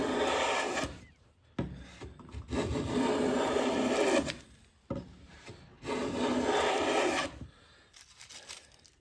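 A Wood River 5 1/2 jack plane shaves full-length, full-width passes along a board, each stroke a loud, close, hissing rasp followed by a brief pause as the plane returns.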